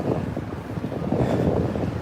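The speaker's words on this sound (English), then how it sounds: "It's so windy, it's so cold." Strong winter wind gusts across a Washington DC street on a cold evening, a steady close buffeting roar on the microphone with no voices.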